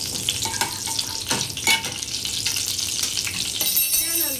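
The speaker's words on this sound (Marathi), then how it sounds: "तेल टाकल्यावरती 4 ते 5 अशा आपण कढीपत्त्याची पाने टाकणार आहोत" Curry leaves crackle and sizzle as four or five hit hot oil in a pan for Maharashtrian ghevda bhaji, a dense, steady frying hiss with sharp pops near the middle and a brief higher whine at the end.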